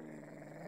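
Brief, continuous low growl from a dog in the video game Anglerfish, steady and fairly quiet, lasting under a second with no pauses.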